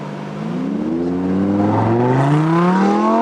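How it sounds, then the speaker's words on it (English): A supercar's engine revs hard against the rev limiter on launch control, then pulls away with a loud, rising engine note that climbs steadily through the gear, close and continuous with no talk. "We'll be able to hear the car rev up and bounce off of a rev limiter, and then it will take off very aggressively."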